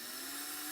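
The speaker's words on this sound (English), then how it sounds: "place the drill bit where I've marked. Just line up your drill" A drill bit boring into wood while making a brush, a steady high-pitched whine that holds even and close for under a second.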